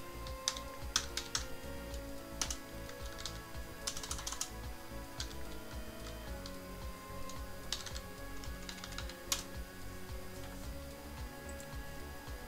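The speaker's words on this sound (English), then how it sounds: "I'm typing with one hand." Someone types on a computer keyboard with one hand, producing quiet, irregular clicks and clusters of key taps at close range with no voices over it.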